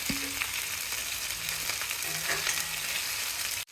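Hilsa fish frying in a small amount of oil gives a steady, close sizzle with faint stirring clinks, running alone before cutting off abruptly near the end.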